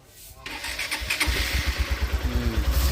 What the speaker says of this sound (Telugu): బండి స్టార్ట్ చేశాడు